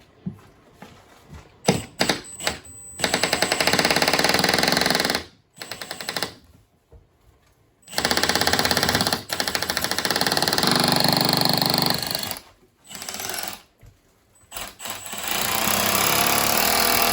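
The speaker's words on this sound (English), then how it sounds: "we're gonna drill a pilot hole right now" Power drill boring a pilot hole, loud sustained whining bursts of several seconds each, separated by short pauses and quieter clicks, with no talking.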